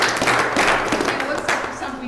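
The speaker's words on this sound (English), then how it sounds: "Huge round of applause for all of you" A brief round of clapping from attendees at a governor's energy task force meeting, moderately loud and fading slightly over a couple of seconds.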